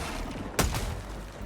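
A single loud, close shot from the JAR-5 Dominator rifle in the shooter game Helldivers 2, fired at a warrior enemy, with a sharp boom that trails off quickly.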